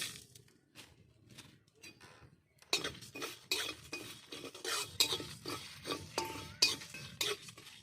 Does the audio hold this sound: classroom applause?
no